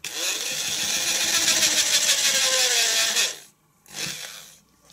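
A power drill bores a hole slightly wider than a rivet for a homemade feeder rig. It gives a loud, steady whine for about three seconds, stops, then makes a shorter second burst.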